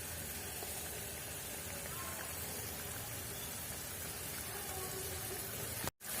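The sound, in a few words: water boiling in a pan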